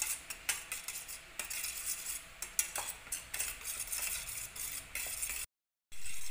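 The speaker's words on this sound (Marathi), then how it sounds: "आता ही डाळ अशी व्यवस्थित हटवून घेऊयात" A spoon stirs and mashes cooked mixed dal in a pressure cooker pot, giving repeated close scraping and clinking strokes in an uneven rhythm, followed by a brief silence and then the stirring again.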